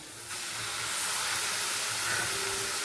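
Washed chicken drops into a pan of sautéing onions for white chicken kurma. The loud hiss jumps up sharply and then holds as a steady, close sizzle, with no voices.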